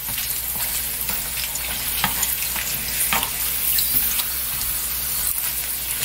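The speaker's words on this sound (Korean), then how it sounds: "이런 식으로 한 개씩 튀기겠습니다." Constant crackling sizzle of rice crackers for yugwa frying one at a time in hot oil over lowered heat, steady and close, with occasional stirring clicks and no voices.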